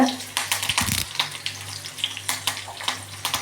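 Curry leaves and a dried red chilli drop into hot oil with small onions for a chayote sambar, giving a close, crackling sizzle with brief bursts and pops over steady frying hiss.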